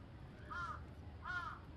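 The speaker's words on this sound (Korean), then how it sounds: "엄청 큰 까마귀 한 마리가 그의 어깨에 앉았다" A large crow caws twice at a moderate distance, two separate harsh calls with a pause between them over quiet outdoor background noise.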